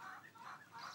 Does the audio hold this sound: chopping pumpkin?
no